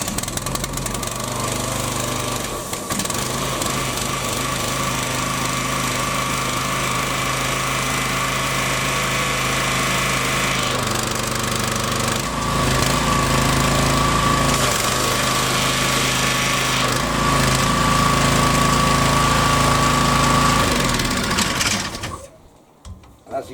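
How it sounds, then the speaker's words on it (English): A Hyundai HYW3000P2 petrol pressure washer engine runs loud and close with a steady high-pitched buzzing drone for about twenty seconds, then cuts out abruptly near the end. "we will pull start the engine"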